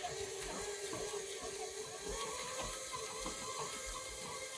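A stand mixer churns chocolate pound cake batter, a steady whirring motor drone with a soft rhythmic slapping of the batter, close and continuous from start to finish.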